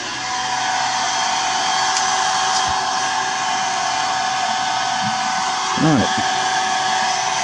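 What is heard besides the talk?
startup blower of a torrefaction system running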